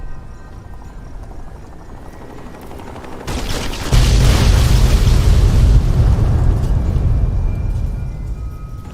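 Airstrike explosions in a video game: a low rumble of distant blasts builds into a loud, sustained roaring wash of detonations lasting several seconds, with no voices.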